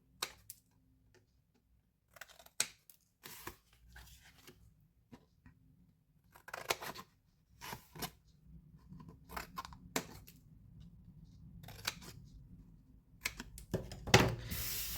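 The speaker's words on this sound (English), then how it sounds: "cut up the score line, and then cut these ones away" Paper card being cut along score lines while making a shadow-box gift box, heard as sparse, crisp snipping cuts that grow more frequent, close up and quiet, separated by stretches of near silence.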